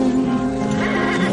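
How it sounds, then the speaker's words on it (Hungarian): A horse gives a loud, drawn-out neigh close by, with faint hoof clops underneath, all in one short burst. "Rendbe jött már a ló?"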